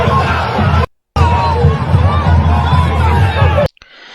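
Football crowd at a Ponte Preta versus Ceará match jeering and yelling at the expelled Lucas Lima as he walks off toward the dressing room, a loud, dense roar of shouts that cuts out briefly and ends abruptly.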